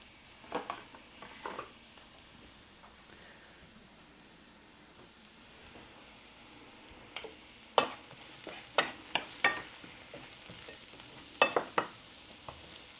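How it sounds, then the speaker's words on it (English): Gnocchi bubbling in a pot of boiling water, a soft low simmering hiss broken by scattered light taps and clinks, faint and with no voices. "The boiling water will bring them up and bubble them around and keep them apart."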